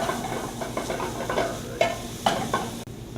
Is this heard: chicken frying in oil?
yes